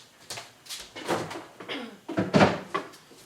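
A kitchen fridge door is pulled open and pushed shut while ratatouille is being made, giving a couple of close, soft thuds and rattles with faint handling noise between them.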